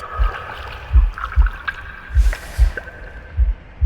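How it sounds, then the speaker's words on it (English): Water gurgling in the video game The Last Campfire, soft low bubbling pulses recurring about every half second like a slow heartbeat, with a steady faint tone and a brief hiss in the background, no voices. "The gurgling of water, a deafening heartbeat."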